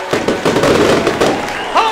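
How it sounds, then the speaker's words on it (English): Fireworks burst loudly in a rapid series of booms and crackles after a home run at a minor-league baseball game, filling the whole moment, with a crowd faintly beneath and a brief whistling rise near the end. "The fireworks go off."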